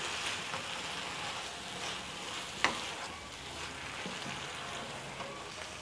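Noodles stir-fried and mixed in a pan with the heat off, a soft steady sizzle with one sharp clink of utensil against the pan midway.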